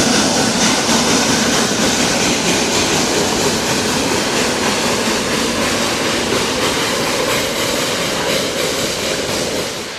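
A Roaring Camp narrow gauge train passes on the Big Trees line, a dense, loud, continuous rumble and rattle of wheels and cars lasting the full ten seconds, close by and alone.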